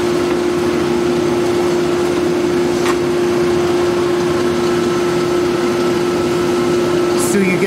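A soil sample grinder runs steadily in a soil testing lab, a loud continuous mechanical drone with a strong steady hum, heard alone throughout with only faint brief clicks.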